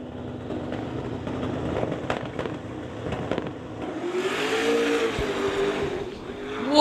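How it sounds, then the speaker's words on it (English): A drag racing car at an outlaw shootout launches hard into a big wheelie, its engine roaring loud and rising in pitch with a sweeping whine, with crowd and track noise underneath. "Whoa, big wheelie out of Mulder."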